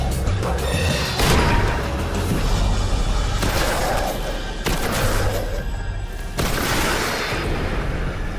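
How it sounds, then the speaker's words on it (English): A solar shotgun fires in Destiny: Rise of Iron: several heavy, booming blasts a second or two apart, loud and close, over constant combat din. "Alright, 3 shots took him out."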